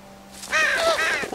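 Crows caw in The Walking Dead Season 2 video game, two or three harsh, fairly close calls in quick succession over a low background hum, with no speech.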